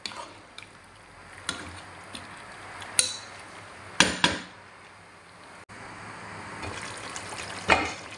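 Water poured into a pot of chicken pulao with hotdogs, a steady splashing stream in the later part, preceded by sharp clanks and knocks of utensils against the pot.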